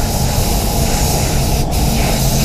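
A spray gun hisses steadily and loudly up close as a silver Volvo XC90 is painted in a spray booth, a continuous broadband spray with no talking.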